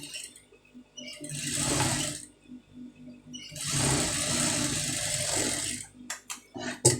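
A sewing machine runs in two bursts, stitching a front piece joint on fabric, with a few short mechanical clicks and knocks between and after the runs.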